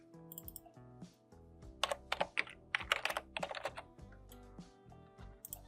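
Keystrokes on a computer keyboard, clicking in quick irregular bursts over a steady background music bed, close and moderately loud with no talking.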